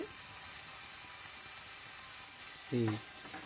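Chopped onion and green chili fry in a ladle of oil with a steady, soft hiss throughout, broken near the end by a brief clatter, with no talking.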